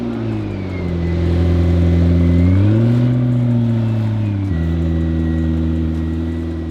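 A McLaren P1 GTR track car's engine hums steady and loud close by, the pitch rising and falling in a smooth rev before settling back to a lower drone.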